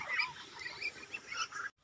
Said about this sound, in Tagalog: makikita ang ating pagpapakain ng ating alagang Muscovy duck